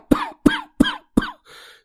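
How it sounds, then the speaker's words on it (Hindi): Four harsh coughs come in a steady rhythm, close and loud, followed by a short breathy rasp. "बहुत खांसी हो रही है"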